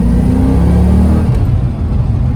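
Brief deep rumble of a 1988 Ford Mustang LX 5.0 notchback V8 engine under light throttle while driving, a loud, close, throaty drone that shifts in pitch partway through.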